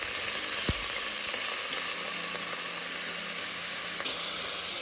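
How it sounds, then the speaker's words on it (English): Onion sautéing in hot olive oil for chicken Parmesan gives a steady, close sizzle and hiss, with a single soft knock early on and faint stirring scrapes throughout. "So I'm gonna go ahead and add the onion first."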